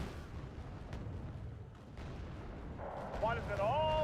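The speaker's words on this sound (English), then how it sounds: "The one good thing about these Pegasus is they do have these 76mm cannons" Game audio from Wargame: Red Dragon, a 1984 campaign battle, with Pegasus units firing 76mm cannons: dull, muffled booms over a continuous rumbling battle bed, with brighter whistling tones rising near the end.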